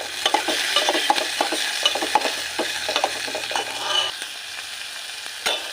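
Chopped tomato, onion and curry leaves sizzle in a pan while a spoon stirs them, adding repeated light scraping clicks over a steady frying hiss.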